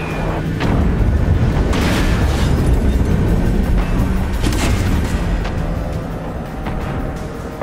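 Missile launcher explosions in the video game Far Cry 6: a dense, sustained roar of booming blasts and bursts, with several sharp impacts standing out over continuous loud rumble.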